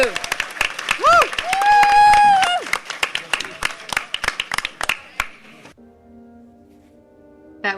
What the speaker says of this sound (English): Can we get a round of applause for our moderator, James, please?